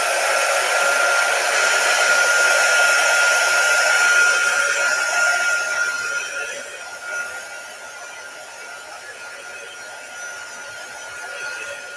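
A hair dryer blows steadily and loudly while drying a Chalk Couture project, then drops to a lower, fainter whir partway through.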